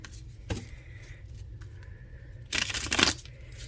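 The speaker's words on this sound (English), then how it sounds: "I'm not going to do like a back shuffle because I don't want to damage the edges." Tarot cards being shuffled by hand in a gentle, non-riffle shuffle, with a soft papery slap early on and then a brisk burst of rustling and flicking card sounds near the end, heard close with no speech.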